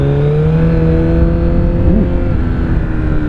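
A Kawasaki Z900 motorcycle fitted with an Akrapovic exhaust drones steadily and close, its engine note holding and then rising slightly as it revs, with no talking.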